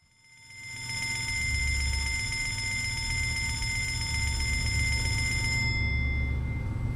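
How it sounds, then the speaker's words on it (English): A loud, continuous electronic bell rings steadily for several seconds in Fallout London, bright and piercing, starting abruptly and holding without pause. "It's the loudest bell I have heard in my life."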